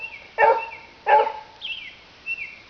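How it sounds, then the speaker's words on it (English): Rouser, a neighborhood dog, gives two sharp, close barks a moment apart, followed by softer yips and thin chirps in an otherwise quiet setting. "Interlude brought to you by the Barking Dog Company"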